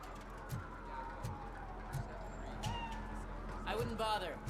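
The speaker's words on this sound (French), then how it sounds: "J'ai entendu un chat." Cat meowing in the video game Robocop: Rogue City, a short rising meow near the end over steady game ambience and faint rhythmic thuds, with talk nearby.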